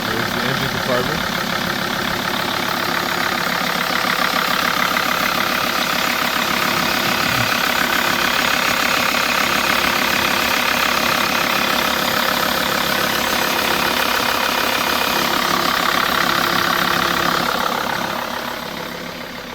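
A 2006 Sprinter 2500 diesel idles after a cold start, a steady close clatter running evenly throughout before easing slightly at the end.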